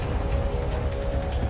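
Heavy, harsh rain pours steadily and loudly throughout, a dense continuous hiss with low rumble and no gaps or voices.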